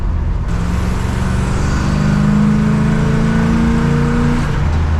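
A 1965 Plymouth Fury engine, with its fuel injectors newly repaired, revs loudly and close by, pitch climbing and holding high before easing back, with a steady rumbling idle underneath and no talking.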